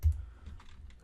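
A single key press on a computer keyboard during Unity game testing gives one soft, close click followed by faint room noise.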